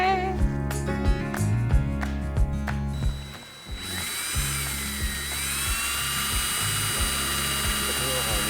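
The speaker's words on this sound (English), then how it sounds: "Let the drill bit do the work." An electric drill bores a hole through thin material in a flower farm studio, its motor humming in pulsed bursts before shifting into a steady higher whine.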